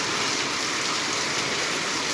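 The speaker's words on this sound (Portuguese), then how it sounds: "Muita chuva hoje aqui, fim de tarde" Heavy late-afternoon rain in Taperoá, a dense, loud and steady wash of water with runoff from a spout, continuous and unbroken with no talking.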